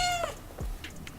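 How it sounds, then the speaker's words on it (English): A cat meows once, a clear rising and falling cry lasting about a second and heard close up and alone. "We're talking about those famous meows, each one carrying its meaning."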